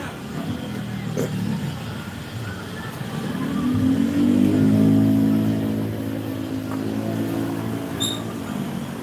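A Gojek ride-hailing driver's motorcycle engine swells from a low idle into a louder rev midway, the rising hum peaking around the middle before settling back to a steady nearby drone.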